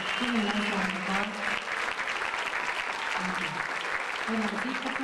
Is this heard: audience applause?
yes